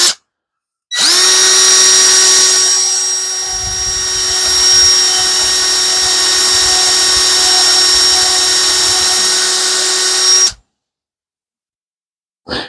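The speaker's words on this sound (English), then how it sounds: "when you drill in, go straight in till you get it started, and then just start moving your drill." A power drill bores into the wood of a round whiskey/bourbon smoker in one long, steady, loud whine lasting about ten seconds, with a rougher grinding texture midway as the bit bites and the drill is moved; close and alone.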